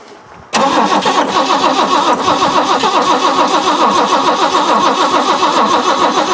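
A 1973 Mk1 Ford Capri engine turns over on a cold start after a short quiet start, then cranks and runs in a steady, loud, rapid chug that continues without a break.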